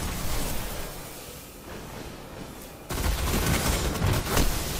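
Gunfire in the video game Destiny, a rough noisy burst that thins out, then returns louder and denser for the last couple of seconds, with no voices over it.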